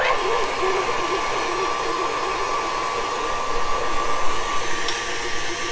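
An electric mixer whirs steadily while creaming salted butter with cream cheese, a continuous close motor drone with a faint high whine and no pauses.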